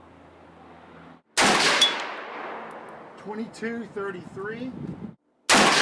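An AR-15 pistol fires Double Tap rifle defense ammunition: two loud, sharp shots with ringing decay, a few seconds apart, and someone speaks briefly between them.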